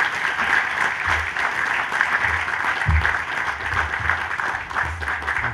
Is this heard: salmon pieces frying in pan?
no